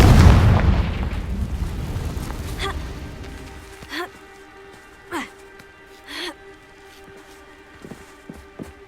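A booming blast from the Confringo fire spell in Hogwarts Legacy, loud and rumbling at first and then fading over a few seconds, followed by several short swooshing game effects over a quiet ambient tone.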